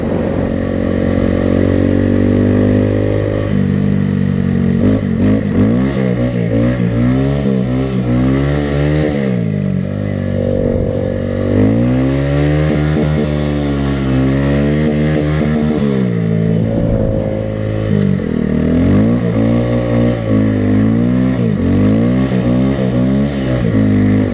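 Honda Grom motorcycle engine revs hard while drifting on snow in Sweden, loud and close, with repeated rising and falling revs and a buzzing mid-pitched exhaust note throughout, no talk.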